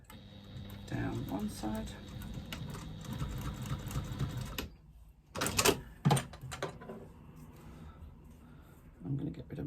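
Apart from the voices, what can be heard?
sewing machine stitching a 1/4 inch seam on fabric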